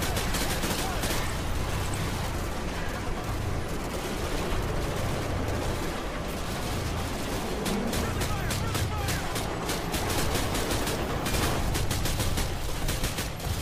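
Rapid bursts of gunfire from the anime-styled military shooter game Call Of Girls: Frontline Duty crackle almost continuously in sharp, dense volleys, with a voice talking underneath.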